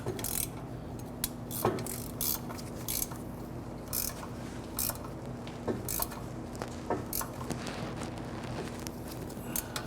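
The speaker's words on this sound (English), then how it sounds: "Go ahead and tighten down our bolts here." A ratchet tightens the bolts on the rear catalytic converter of a 2006-2013 Chevy Impala, with repeated short clicking bursts over a steady low mechanical hum, close and fairly loud throughout.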